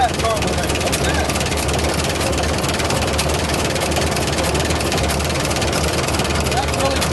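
An old Linn tractor engine runs continuously at close range, a dense steady low rumble with rapid mechanical chatter throughout, while people talk over it.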